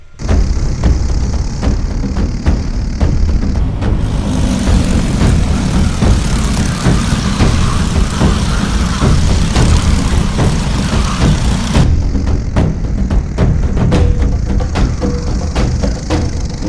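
Many racing karts in a crowded heat at Indianapolis roar together in a loud, sustained engine drone that swells in the middle as the pack passes close, with no voices.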